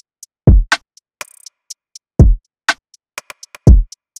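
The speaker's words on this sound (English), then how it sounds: "And then next, the hard hitting kick that's just in your face." A hard-hitting, in-your-face kick drum thumps three times with deep booming low end in a programmed hip-hop beat, mixed with crisp snare hits and fast ticking hi-hats, loud and close with no speech.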